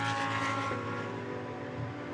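A Lamborghini GT race car roars past on the Barcelona circuit heading into turn 1, its loud engine note sweeping by and fading slightly.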